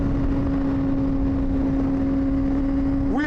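A 2024 Honda CBR600RR with a swapped, very loud exhaust runs with a steady droning engine hum and wind noise, then revs sharply upward in pitch at the very end as it accelerates.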